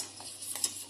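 A sweet date candy mixture is stirred in a pot, making brief soft scraping and sizzling sounds that are close and faint.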